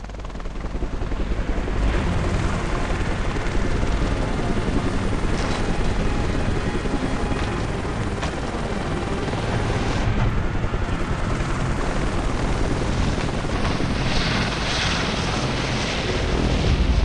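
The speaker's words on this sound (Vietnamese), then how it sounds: "Trực thăng đến cứu rồi." A rescue helicopter arrives in the mobile survival game Life After, its rotor and engine roaring as a loud, steady, continuous wash that runs unbroken throughout, with no talking.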